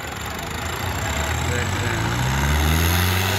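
Tractor engine revving hard and loud during a tractor tug-of-war contest, a rising low drone that builds in strength, with someone speaking briefly over it.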